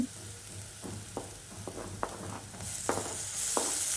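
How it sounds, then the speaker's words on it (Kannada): Onions frying in hot oil in a pan on a gas stove, with a steady close sizzle and several sharp stirring scrapes. Near the end a brighter hiss swells. "ಎಣ್ಣೆ ಕಾದ ನಂತರ ಈರುಳ್ಳಿ ಹಾಕಿ ಚೆನ್ನಾಗಿ ಈರುಳ್ಳಿ ಹುರ್ಕೊಂಡಾದ್ಮೇಲೆ"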